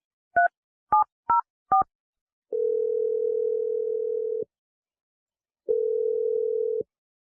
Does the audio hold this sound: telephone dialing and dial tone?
yes